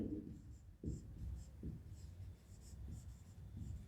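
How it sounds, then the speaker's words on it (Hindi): Chalk or marker on a board in a physics lecture, a few faint scratching strokes spaced across a quiet room, with a voice speaking softly in the background. "मैं यहाँ लिखती हूँ"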